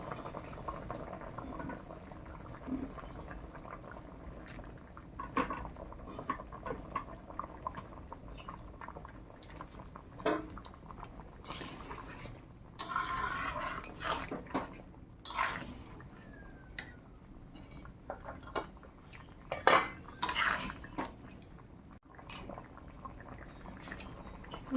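Live prawns go into a simmering pot of cauliflower and potato curry cooked with little water, giving steady close bubbling with scattered splashes and drips and no talk.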